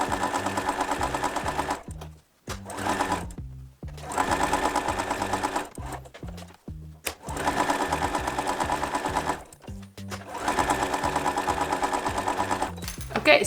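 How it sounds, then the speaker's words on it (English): Sewing machine stitching around the four sides of quilt half square triangle units, running in loud, steady rhythmic bursts with several brief pauses between seams, heard close and alone. "We sew all around the 4 sides, and after that, we cut them diagonally."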